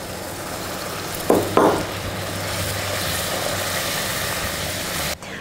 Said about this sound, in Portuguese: O caramelo tá bem quente. Então a tendência, ó, é toda a panela espumar agora.